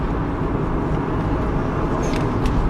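A Toyota Supra JZA80 engine runs with a steady, loud low rumble as light throttle is applied, a continuous dense drone without distinct rev peaks, heard close with no talk.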